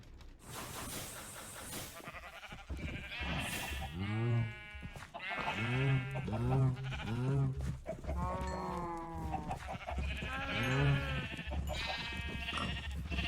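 Blocky cows in the Minecraft modpack FTB Skies let out repeated bleating, lowing calls, several in a row with short gaps, moderately loud and close.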